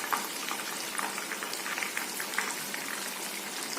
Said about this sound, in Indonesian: Pertama dimasukin, posisinya minyaknya panas ya guys.